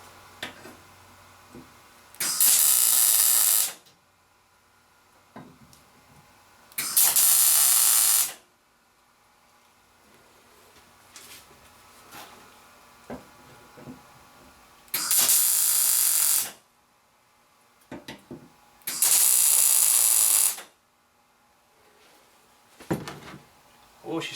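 Parts being bolted onto a mini trailer leaf collector prototype: four bursts of bright, harsh power-tool whirring, each lasting one to two seconds, separated by quieter clicks, clunks and handling noises at close range.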